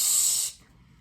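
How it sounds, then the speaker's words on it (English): Cooking oil spray from a can hisses onto a pan in a single close, steady burst lasting about half a second, then cuts off to quiet. "spray that pan until, you've got a nice big layer of oil"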